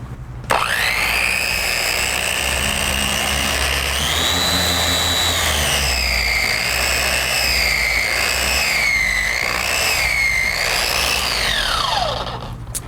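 A FLEX 3401 dual-action polisher works over car paint, a steady loud whine with sweeping pitch shifts as pressure and angle change, running continuously for about twelve seconds before winding down.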